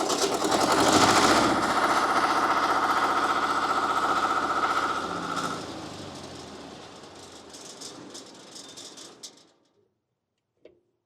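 A Miller Air Pak 400 welder engine runs loud and steady, then sputters and drops off unevenly as it tries to settle into idle, fading to near silence with a last small knock.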